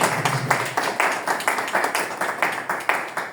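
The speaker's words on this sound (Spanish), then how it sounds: "Un fuerte aplauso para él." An audience at a book day talk in Cajamarca, Peru applauds steadily, a dense wash of clapping with regular pulses, moderately loud and without talk.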